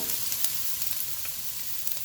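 Mixed vegetables sizzle and crackle as they stir-fry in a hot pan alongside pacceri noodles, a steady close hiss broken by a few light scraping and tossing ticks.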